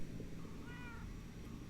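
A cat meows in the Minecraft: Story Mode video game, a single faint mewing call rising briefly out of a steady background hum.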